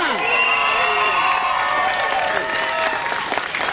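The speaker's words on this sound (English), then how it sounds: "Give her another round of applause." Loud crowd applause and cheering at a Black Lives Matter rally at City Hall, sustained throughout with whoops and shouts over dense clapping, some voices audible in the mix.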